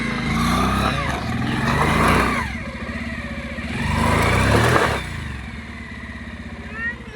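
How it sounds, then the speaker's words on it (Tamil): A motorcycle stuck on a dirt road beside a farm revs loudly in repeated surges, its engine rising and falling in two long bursts before settling to a steadier idle, with no talk over it. "பைக்கை ஸ்டார்ட் பண்ணி திருப்பிக்கிட்டு இருந்தோம். திருப்பவே முடியல."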